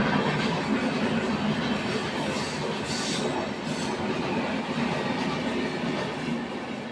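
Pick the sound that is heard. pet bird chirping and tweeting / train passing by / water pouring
train passing by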